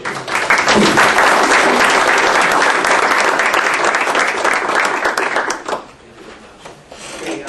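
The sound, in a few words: board meeting audience applause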